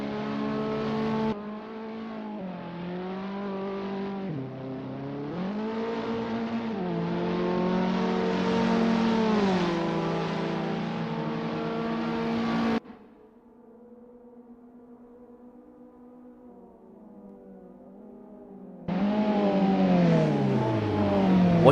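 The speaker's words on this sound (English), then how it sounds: "Watch as Chris Duke takes it nice and easy on this outlap" A Renault 5 Turbo race car in Assetto Corsa club racing on an easy outlap, its engine droning loudly with rising and falling revs through gear changes, briefly dropping to a quieter idle-like hum before pulling hard again.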